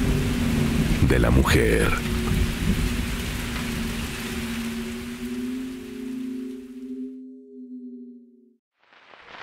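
A rumbling thunderstorm with steady rain fills the scene, a loud crack of thunder early on giving way to a long low rolling rumble that fades out, with a brief spoken phrase near the end.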